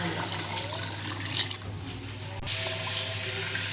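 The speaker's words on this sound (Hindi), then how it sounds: "अच्छा, ये डालते हैं अंदर पानी।" Water poured into well-fried curry masala in a pan while cooking a Punjabi pakora curry, giving a steady, close rush of liquid with a brief louder splash partway through.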